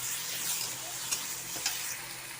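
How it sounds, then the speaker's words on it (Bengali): Chopped tomato and capsicum fried in a pan for a mushroom curry, with a steady hiss and a couple of brief spoon scrapes against the pan. "দিয়ে দিচ্ছি টমেটো কুচি আর ক্যাপসিকামটা, ভালো করে মিক্স করে নাড়বো"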